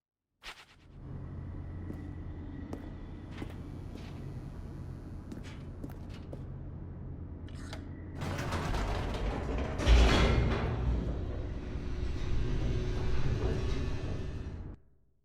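Elevator in The Stanley Parable descending, a low steady mechanical hum with faint creaks and clunks, then swelling into a louder rushing rumble with rattling for the rest of the ride.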